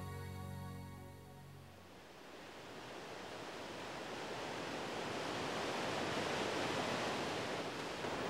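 Loud roar of tumbling water at river falls during EXPO '74, a continuous broadband rush that swells steadily and drowns out a brief low tonal hum at the start.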